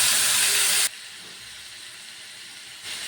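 Marinated prawns frying in a pan give a loud, hissing sizzle for the first second, then drop to a much quieter, steady crackle that swells slightly again at the end.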